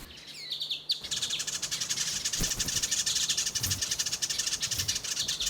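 Outdoor chorus of bird chirps and calls in the wild at Murramarang, a dense, continuous twittering with a few clearer calls near the start.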